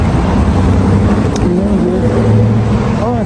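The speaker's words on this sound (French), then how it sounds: "M2, dernier modèle avec l'échappement M-Perf, tiens." A latest-model BMW M2 with an M Performance exhaust passes on a busy street, a loud roaring engine note rising and swelling amid surrounding traffic noise.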